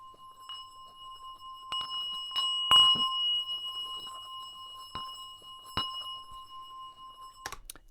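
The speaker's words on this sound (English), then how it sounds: "it's a singing bowl that my parents got from Nepal when they were in Nepal" Nepalese singing bowl struck a few times, each strike leaving a clear sustained metallic ring that hangs and slowly fades, quiet and close in an otherwise still room.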